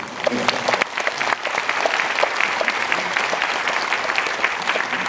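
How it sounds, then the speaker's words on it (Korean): A crowd at a Liberation Day church gathering in Yangcheon, Seoul applauds a speaker, with dense, sustained clapping that stays loud and even throughout and faint voices mixed in. "더 열심히 뛰라고 박수 한번 주십시오"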